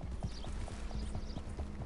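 Hooves of a horse clip-clopping in Red Dead Redemption 2 on the way to a ranch, a steady walking rhythm of hollow thuds repeating close by over a low ambient bed, with no talk.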